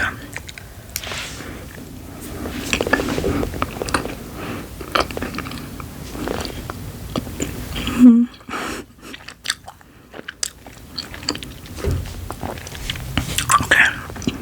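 A piece of sour gum is chewed close to the microphone with wet, squishy, crunchy bites and mouth noises, under soft whispered talk.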